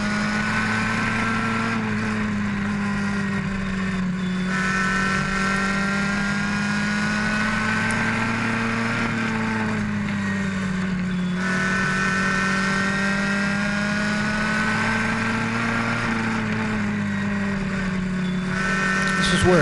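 Race cars circle an oval track, their engines droning loudly and steadily with rising and falling passes, while an announcer talks over the roar throughout.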